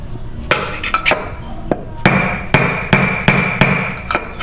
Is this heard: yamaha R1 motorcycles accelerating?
no